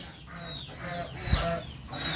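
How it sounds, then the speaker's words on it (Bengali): A rooster at a poultry market on a rainy day gives a run of short, fairly close clucks in an uneven rhythm over a steady murmur of background noise. "এটা মোরগ না?"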